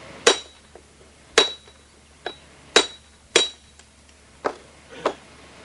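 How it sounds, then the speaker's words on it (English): A steel pitching chisel strikes stone six times at uneven intervals, each blow a sharp ringing clink that decays quickly, heard close in a quiet space. "This first chisel, like I used on the roping section, is what you call a pitching tool"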